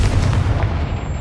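A Confringo fire spell explodes in the Hogwarts Legacy video game, a loud, dense burst of booming rumble sustained without pause for just over a second, with no talk.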